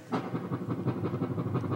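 An accordion imitates a train, pumping a steady chugging rhythm of rapid, evenly spaced puffs, close and fairly loud with no talking.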